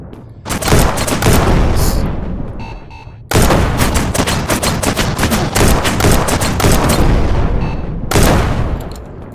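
Dense bursts of gunfire and booming blasts from rockets and mines in the VR shooter Shotwood VR, loud and continuous with two sharp breaks where the volley stops and restarts.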